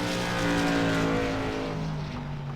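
The number 72 race car of Paul Kushiba takes to the track during qualifying at the ISTRA Shamrock 100 at The Bullring, Las Vegas Motor Speedway, its engine a sustained droning roar that swells and then eases slightly away.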